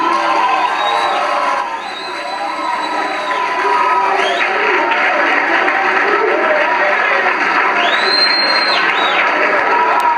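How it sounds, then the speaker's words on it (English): A large audience claps and cheers loudly in a played-back hearing recording, a dense continuous wash of applause with whoops and shouts throughout. "people are clapping"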